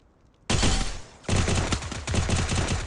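Rapid automatic gunfire from a shooter video game, loud and close, coming in three bursts with a short gap after the first, each one a dense rattle of shots.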